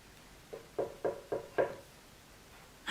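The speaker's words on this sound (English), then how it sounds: "Well, he looked at the house and he knocked again." Five evenly spaced knocks on a door, used as a prop during a read-aloud of a pop-up storybook; each rap is hollow, moderately loud and close, with quiet between them.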